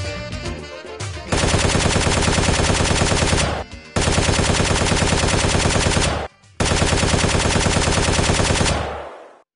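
Machine gun fire in the animated TaleSpin movie, sky pirates attacking: three long, loud bursts of rapid shots, with short gaps between them and a fading tail at the end.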